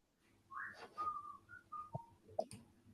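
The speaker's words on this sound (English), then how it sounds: "I can hear somebody whistling in the background" Someone whistles a short, wavering tune in the background of an online call, a few thin sliding notes followed by a couple of small clicks, faint and distant.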